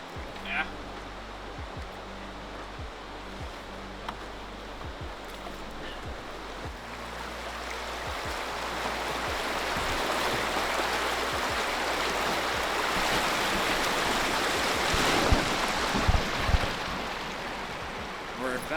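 Gong Creek, a lake-country stream on a canoe fishing trip, flows with a steady broadband rush of water that swells slightly louder midway, with faint knocks and splashes from the canoe nearby.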